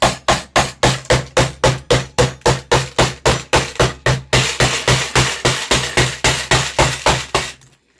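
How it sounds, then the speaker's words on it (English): A hammer whacks a can filled with screws and a spoon in rapid, evenly spaced metallic strikes, about two per second, loud and close, then a rattling clatter before stopping abruptly. "you put your screws in this can, and then you put your spoon in the can. And you take your hammer and whack away."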